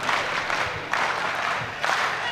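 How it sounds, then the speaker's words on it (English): Audience applause fills a political party conference hall, a steady wash of clapping from a large crowd with two brief surges in intensity, heard without speech. "may we give our national chairman and the president a better round of applause."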